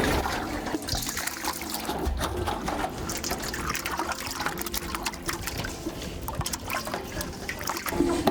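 Dirty water is emptied and clean water is refilled in a monkey enclosure at a zoo, giving steady pouring and trickling that sounds fairly loud and continuous for several seconds, with no voices.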